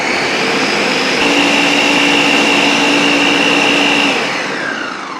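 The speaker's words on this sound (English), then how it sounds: "Okay, so grind that." Blender motor whirring steadily as it grinds cucumber, fruit and a pinch of salt into a smooth summer drink, loud and continuous for about four seconds before the pitch shifts and eases slightly near the end.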